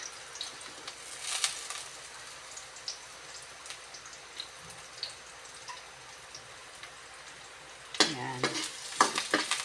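Garlic frying and being stirred in a pan, with onion about to go in, for a Filipino taro-and-shrimp vegetable dish: a steady low sizzle with scattered scraping strokes and a louder burst of stirring near the end, with a brief spoken word.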